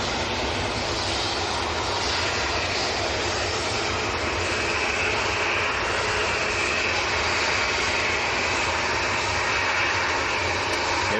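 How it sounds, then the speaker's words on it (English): TUI airliner engines spooling up at Manchester Airport, a loud, steady jet roar with a broad rushing hiss that holds evenly throughout, no voices. "I think the TUI that's been waiting to start its engines back up as well."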